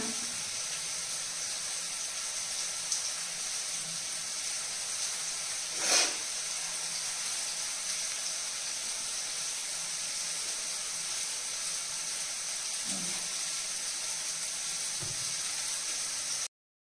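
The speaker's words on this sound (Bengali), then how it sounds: "উচ্ছে কুমড়ো ভাজার আওয়াজে ঠিক মতন কিছুই শোনা যাচ্ছে না" Bitter gourd and pumpkin fry in a pan with a constant hiss-like sizzle, steady throughout, with one brief louder burst and a few faint knocks.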